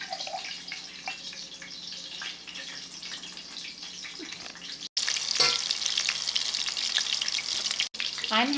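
Meatballs without breadcrumbs brown in a frying pan, a close, steady sizzle and crackle running throughout, with brief gaps and a slight surge in intensity partway through.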